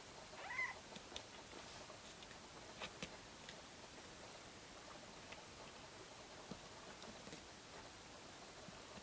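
Tiny four-week-old kittens in a litter tray of stones, giving a faint high meow near the start amid soft scattered ticks and scratchy rustles over a low hiss.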